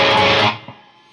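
Distorted electric guitar strumming part of the riff: a short, loud overdriven chord burst that cuts off after half a second, leaving a faint decaying tail.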